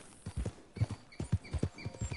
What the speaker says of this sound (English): those are horses